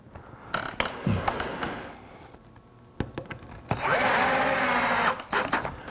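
Power screwdriver driving a screw into a wooden grandfather clock part, bursts of whirring motor with a rising pitch as the screw bites, separated by short pauses and clicks, close and fairly loud.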